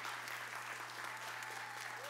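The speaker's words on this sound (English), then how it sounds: "Can you give him a round of applause, please?" Audience applauding Dean Eddie Phillips at a Kennedy-King College event, a brief, faint patter of clapping over a steady low hum, with no talk.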